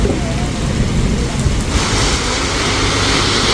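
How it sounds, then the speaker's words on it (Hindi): Heavy rain pours down in an Uttarakhand village, a dense, continuous hiss and patter of drops on surfaces that stays loud throughout. "इतनी भयंकर वाली बारिश लग रही है"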